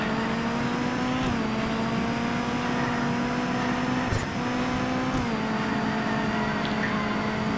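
A car engine in a racing video game drones at a steady, loud pitch that dips slightly a few times as the car steers, continuous with no voices over it.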